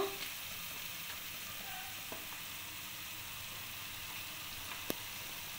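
Ground turmeric, coriander and cumin sizzle steadily in hot oil in a pan with radish and bhola fish, a soft continuous frying hiss with faint stirring clicks and no voices.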